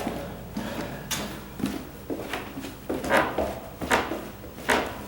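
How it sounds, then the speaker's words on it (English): Wooden floor creaking and squeaking as it is stepped on and checked for loose spots, a series of short dry creaks repeating every second or so, fairly close and moderately loud with no talking. "This is my last opportunity right now to check for squeaks in the floor, right?"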